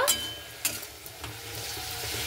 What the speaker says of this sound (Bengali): এরপরে খুব ভালো মতো করে শাকটাকে আমি নাড়াচাড়া করে নেব।